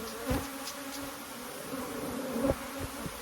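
Honey bees buzz around an open hive during a strong nectar flow, a dense steady drone with individual bees zipping past close by, no voices.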